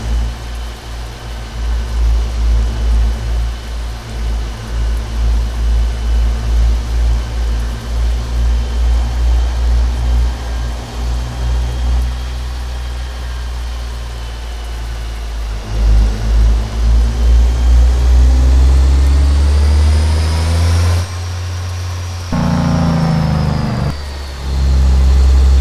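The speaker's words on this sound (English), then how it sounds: "Get some dump truck action." A dump truck engine in American Truck Simulator drones steadily and loudly, heard from an outside view, with a deep rumble that shifts pitch partway through as the truck changes speed, and no talking.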